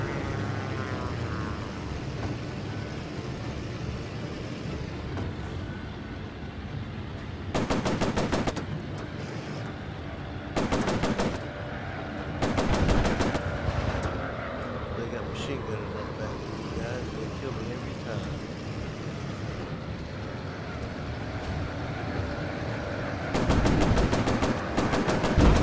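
Machine gun fire from fighter aircraft in a World of Warplanes dogfight, four or five short dense bursts over a continuous loud engine drone, with a voice speaking over the action.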